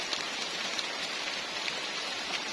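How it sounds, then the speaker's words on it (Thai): Heavy rain pours steadily during a bird-hunting outing in a forest, a dense, continuous hiss of drops beating on surfaces with no voices over it. "ฝนตกนักเกินไปแล้ว"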